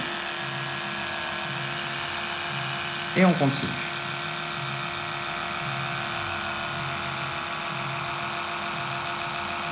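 A steady buzzing hum of an electric toothbrush runs throughout, with a brief spoken phrase partway through.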